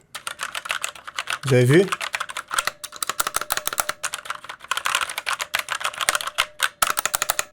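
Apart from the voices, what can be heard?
typing on mechanical keyboard with Red switches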